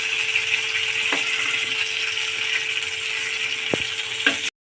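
Okra bubbling and sizzling in hot oil in a kadai, a steady close crackle that runs evenly throughout with a few sharp clicks and knocks, then cuts off abruptly near the end.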